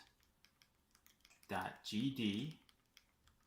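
Faint keyboard typing, a light run of regular clicks in a quiet room, broken midway by a short burst of someone talking.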